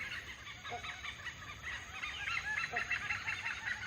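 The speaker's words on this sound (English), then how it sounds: "The smallest of them all, the oriental pied hornbills, live primarily on various species of figs that fruit throughout the year in the forest canopy." Oriental pied hornbills in a Thai forest give faint, repeated honking, cackling calls over soft background ambience, with no voices present.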